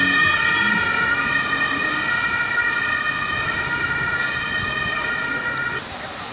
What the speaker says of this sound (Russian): у скорой, конечно, сирена хорошая.